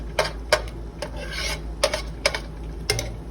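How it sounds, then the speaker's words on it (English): A spoon scrapes the bottom of a pan of Cajun shrimp, sausage and vegetables seasoned with Old Bay, giving a series of close, sharp rasping strokes in an uneven rhythm. "mix it all together, scrape the bottom of the pan,"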